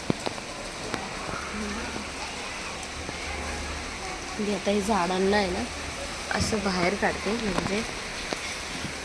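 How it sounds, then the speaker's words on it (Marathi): Steady rain falling outside a home balcony gallery, a continuous soft hiss close by, with someone talking over it partway through. "पाऊस आलाय."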